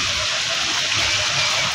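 Heavy rain pours down steadily, a loud, dense and continuous rush of falling and flowing water with no break or easing throughout.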